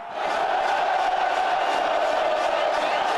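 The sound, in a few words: football fans cheering a goal in stadium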